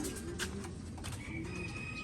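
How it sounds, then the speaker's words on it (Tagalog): Pigeons in a loft, soft cooing and faint bird calls amid low background rumble, quiet and close, with no talking. "ang dami pa rin natin ibon dito, mga kalapatid"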